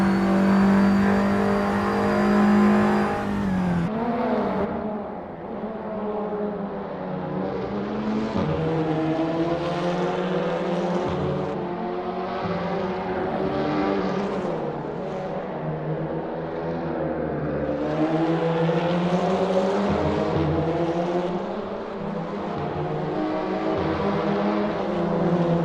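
Audi TT Cup race car at speed on a flying lap at Circuit Charade in Assetto Corsa, a steady loud engine drone with shifting pitch as it revs and changes gear, continuous throughout.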